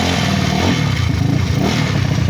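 A JVT jeepney's 4-valve engine idles steadily up close, a low continuous rumble carrying a faint repetitive knock or tapping within it.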